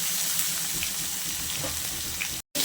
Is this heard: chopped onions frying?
yes